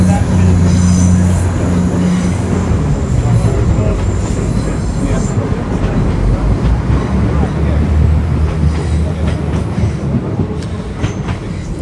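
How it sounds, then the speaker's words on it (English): Train rolling over a railway bridge, a loud close rumble with rhythmic wheel clatter and metallic squeal that gradually eases as the cars pass. "Did you enjoy watching the trains go past?"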